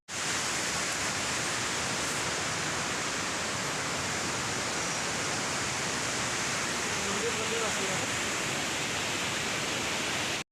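Waterfall at Marleshwar pouring in monsoon rain amid fog and forest, a steady, dense roar of falling water filling the scene from start to end without a break.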